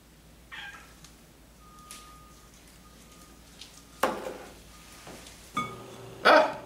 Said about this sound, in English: Ah, it's Cassie's kitty cat Kiki